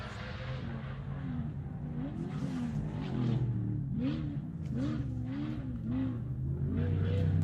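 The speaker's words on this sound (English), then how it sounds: "Off the line for the prologue here for the Kmc Wheels StGeorge399. It's Stephen Deborah Ash in the 862 short wheel base Pajero." Short-wheelbase Pajero rally car, entry 862, pulling away from the prologue start line of an off-road race, its engine note rising and shifting through revs at close range, with steady mechanical roar throughout.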